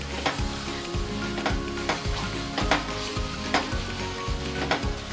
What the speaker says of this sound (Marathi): आता त्याला पण मी व्यवस्थित फ्राय करून घेणार आहे तुपामध्ये।